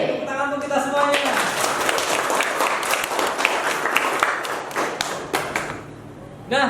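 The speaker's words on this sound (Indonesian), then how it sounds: "Tepuk tangan untuk kita semuanya." A classroom of students claps together at a teacher's call, a dense patter of hand claps running steadily for several seconds before thinning out near the end, with voices mixed in.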